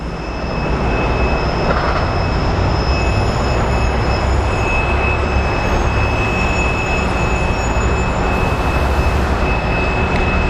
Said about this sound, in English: There's the Alaska Airlines West Coast Wonders just powered up.